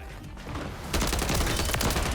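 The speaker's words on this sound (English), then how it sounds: "we got a submachine gun" The Striker submachine gun firing in Modern Warfare 3, a loud dense stream of rapid shots that swells suddenly about a second in and keeps going, close and alone.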